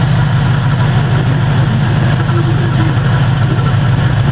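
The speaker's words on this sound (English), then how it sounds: "Unlike the 480 horsepower LS3, this one just hums along, idles at 700 RPM." A V8 engine in a Jeep idles at about 700 RPM, giving a loud, close, steady low rumble with even vibration throughout and no speech over it.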